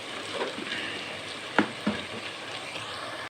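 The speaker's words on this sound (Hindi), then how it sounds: "थोड़ा सा नाज़रीन ये चीज़ें इस घी में थोड़े से फ्राई हो जाएं" Spices and softened potatoes fry in ghee with a steady broadband sizzle, broken by two brief stirring knocks in the middle and a sharp clatter at the very end.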